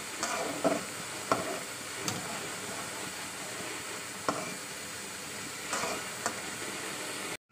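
Pomfret fish frying in a pan with little oil, a steady low sizzle broken by a few sharp taps and scrapes of a spatula, close but fairly quiet.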